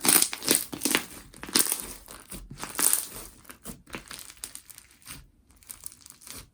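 Rice ball slime pressed and played on a table surface, producing loud crunchy crackling and crinkling bursts in an irregular rhythm, close and with no talking.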